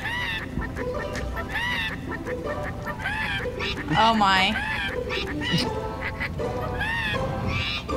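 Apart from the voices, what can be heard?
birds singing badly in Skylanders Trap Team video game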